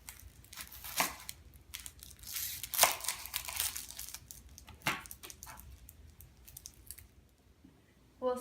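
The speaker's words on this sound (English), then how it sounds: "After I've cut my carrots into thin straws, I'm going to cut my onions into half rings." A kitchen knife cuts carrots and onions on a board, giving scattered crisp chops and slicing crunches at irregular intervals, fairly close and moderately quiet, with no talk.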